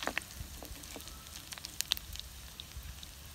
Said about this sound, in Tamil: எண்ணெய் சூடாயிடுச்சு, இந்த முந்திரி பருப்பு, பூண்டு சேர்த்து பொரிய விடணும்.